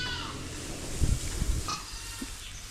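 Goats bleat on a muddy farm during cold spring rain, a few nasal calls sounding close over a steady hiss of background noise.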